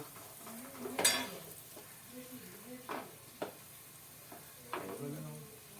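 Ginger, shallots and garlic sizzle in a pan for a homestyle crab curry, a soft steady frying hiss broken by several sharp stirring scrapes and spoon clinks against the pan.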